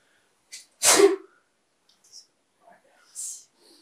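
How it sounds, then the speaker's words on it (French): A young woman sneezes once, sharp and close, followed by faint rustles and small clicks in an otherwise quiet room. "C'est simplement une des filles qui a éternué à ce moment-là."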